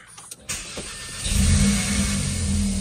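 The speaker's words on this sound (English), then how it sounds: "start it up here." A 2024 Audi S3 cranks over with a couple of starter clicks and catches, then settles into a loud, close, rumbling idle that swells slightly as it steadies, with no speech.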